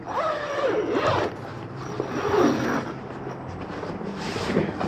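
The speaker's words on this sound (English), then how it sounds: "You can unzip them or unsnap them. In this case, I'm just gonna unzip." A zipper is drawn open on the fabric bunk cover of a 2024 Intech Flyer Discover camper, giving a few rasping zip strokes up close with soft rustling between them and no talking.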